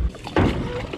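On a winter catfishing trip, water sloshes and splashes around a motorboat with its engine running as the anchor goes off the back, a brief loud splash over a noisy rumble.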